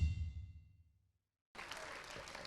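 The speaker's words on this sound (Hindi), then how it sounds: "एक बार ताली बजाइए इस बात के लिए।" Audience clapping at an Independence Day poetry recital starts abruptly after a low sound fades into a short silence, then carries on as a steady, moderately quiet patter.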